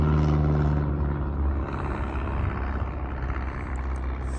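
A steady low rumble from airplanes flying overhead at night gradually eases off, with no voices in it.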